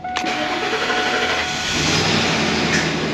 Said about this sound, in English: Beginning engine starting long crank sequence now.